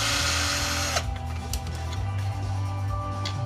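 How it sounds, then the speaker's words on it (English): Power drill backing screws out of an extruded aluminum LED light strip being scrapped, a steady close motor whir with a change in pitch about a second in, running alone throughout. "Get these screws out."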